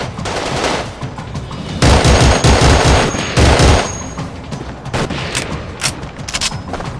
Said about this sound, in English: Incoming fire is heavy small arms